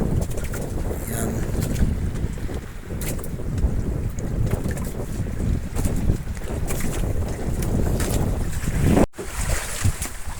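Strong wind gusts buffet a small boat out at sea, roaring and rumbling continuously with splashing water, loud and close, with a brief sharp dropout near the end.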